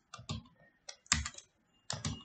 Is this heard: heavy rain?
no